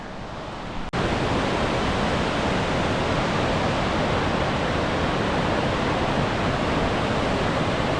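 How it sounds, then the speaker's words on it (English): Small waterfalls about 15 feet high on the Wahclella Falls Trail in the Columbia River Gorge roar as a steady, loud rush of falling water that starts abruptly after a brief quieter moment and holds constant, with no voices. "Some little, I would say 15-foot waterfalls"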